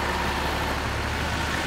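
A Zetor 7711 tractor engine idling, a steady, even low rumble that holds without change throughout.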